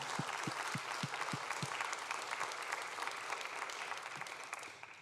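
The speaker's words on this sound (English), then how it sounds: "Huge round of applause for you." Continuous clapping fills the room at a campus and community radio awards gala, a full crowd's applause holding steady before easing off at the end, with a few faint low thumps at the start.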